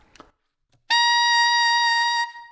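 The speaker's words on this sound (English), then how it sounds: "So the G sounds like this on the alto sax." A single high, bright altissimo G on alto saxophone, held steady for about a second and a half after a brief soft breath.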